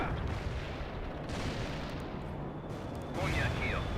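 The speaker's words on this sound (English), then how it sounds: "Napalm strike was right on top of the enemy." Napalm airstrike explosions in the World in Conflict video game: a continuous, heavy rumbling roar of blasts and fire that swells again toward the end, loud and dense throughout.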